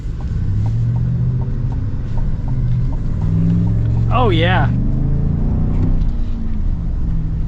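Rumbling V8 engine of a 2025 Chevy Silverado ZR2 pickup heard from the cabin, a steady low drone as it pulls, with someone talking over it and a brief sweeping tone in the middle.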